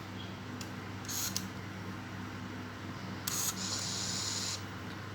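Two soft mechanical shutter sounds from a Canon Sure Shot 60 Zoom film camera in darkness, the second followed by a longer hiss-like slow exposure lasting about a second before a closing click, over quiet room hum.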